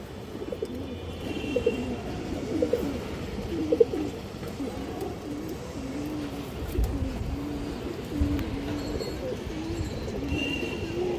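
Several domestic pigeons coo continuously at close range, overlapping low throaty calls forming a steady murmur, with a few sharper bursts and faint wing or movement sounds.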